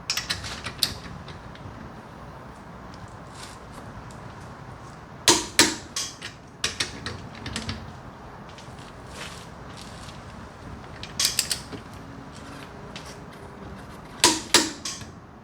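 Car wheel nuts are tightened with the handbrake on and torqued to 75 pound-feet, giving sparse sharp metallic clicks and creaks in small clusters against a quiet background, with no talking.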